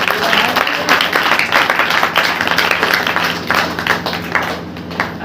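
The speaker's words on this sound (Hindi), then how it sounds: "एक बार जोर से ताली बजा देंगे" A church congregation at a Saturday prayer meeting claps loudly together, a dense, sustained burst of applause filling the room with a faint voice underneath.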